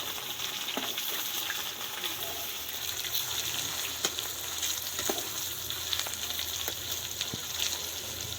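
Quince pieces frying in a pan for a Kashmiri curd curry, giving a steady close sizzle and crackle with occasional small pops and stirring sounds, no talking.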